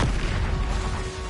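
A Confringo fire spell explodes in the Hogwarts Legacy video game, a deep, rumbling boom that hits loud at once and fades slowly, with no voices.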